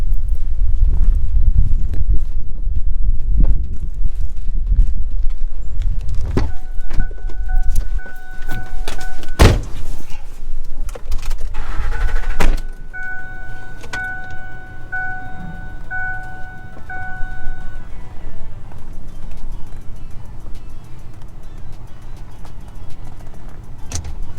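A park ranger's vehicle rolls slowly through a full campground at Hunting Island, with a steady engine and road rumble, several clunks and knocks, and a chiming tone sounding for a few seconds midway.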